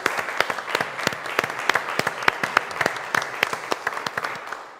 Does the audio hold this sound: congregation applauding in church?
yes